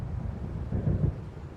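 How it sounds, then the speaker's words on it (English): Low distant rumble of thunder from a storm rolling in over the lake near Diver's Isle in the video game Alan Wake, a soft swelling roar that peaks briefly and fades, heard alone. "It seems there's a storm coming."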